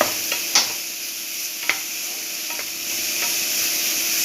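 Unnakaya filling is stirred in a pan with a few distinct scraping strokes of a spoon over a steady soft sizzle, close and clear.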